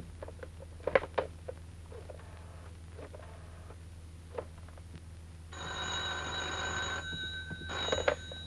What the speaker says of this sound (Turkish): Telefon! Telefon!